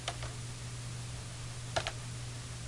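Two short bursts of quiet keystrokes on a computer keyboard, a quick cluster of clicks, a pause, then another, over a faint steady hum.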